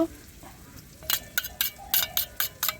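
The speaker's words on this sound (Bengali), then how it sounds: "টক দইটা ভালো করে ফেটে নিয়ে আসছি, এর ভিতরে হলুদ দিয়ে দিব" A utensil whisks sour curd mixed with turmeric in a bowl, in a home kitchen. About seven quick, scratchy strokes come in a loose rhythm, close and fairly soft, after a brief quiet start.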